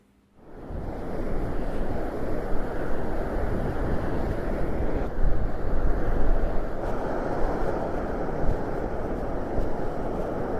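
Sea waves and wind from the sound artwork Sub-Atlantic swell in after a brief silence into a steady broad roar of surf and blowing air, fairly loud and continuous.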